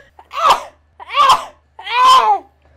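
Three quick sneezes from one person in a row, each a sharp burst followed by a pause, loud and close with nothing else around them.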